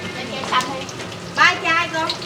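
Balut duck eggs deep-frying in hot oil at a street food stall, a soft steady sizzle with a couple of louder crackling bursts, heard under background voices.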